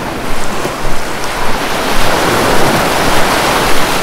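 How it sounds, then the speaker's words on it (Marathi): Sea waves wash steadily onto Nivati beach in the morning, a continuous broadband surf roar with gentle swells rising and falling, some wind noise mixed in, no voices. "सकाळी जाग आली तीच समुद्राच्या खळाळत्या लाटांच्या आवाजात"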